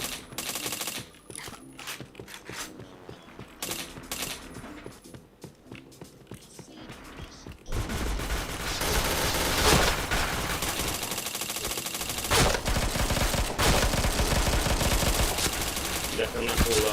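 Video game gunfire from Point Blank: sparse sharp shots at first, then a long dense stretch of rapid automatic bursts and explosive bangs, loud and continuous, with a player's voice talking over the action.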